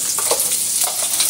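Crab (alimasag) sautés in a pan, giving a brief, close burst of steady sizzling with soft stirring strokes.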